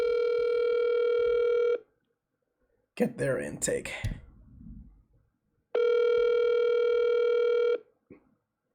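Telephone dial tone with steady harmonic tones, heard twice in long beeps of about two seconds each, separated by a burst of speech.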